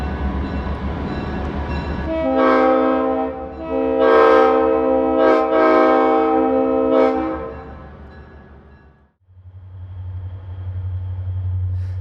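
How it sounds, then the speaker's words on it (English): Two GE 65-ton center cab locomotives in a street-running train parade on Brown Street sound a long, loud chord horn in several blasts over the rumbling engines, then the diesel drone continues alone. "an afternoon train parade down Brown Street, with 2 GE 65-ton center cabs on the second train"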